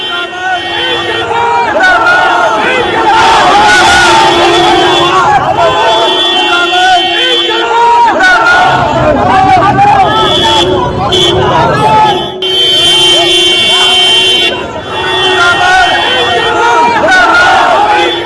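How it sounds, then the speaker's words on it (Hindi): A large, dense crowd of supporters in Rampur roars and chants without pause around Azam Khan's flower-showered convoy on the road. The loud shouting hardly dips, and vehicle noise sits underneath. "भीड़ ने उन्हें इस कदर घेर लिया था रामपुर में"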